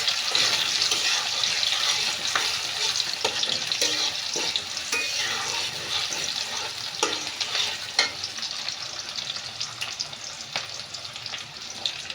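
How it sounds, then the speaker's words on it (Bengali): Onion and garlic sizzle in hot oil for a tempering, a dense, bright crackle that holds steady for the whole stretch, with scattered spatula taps and stirring scrapes and no talking. "এখন বাগার দিব শুধু এখন তেল দিয়ে দিলাম তারপর পেঁয়াজ রসুন দিয়ে দিব"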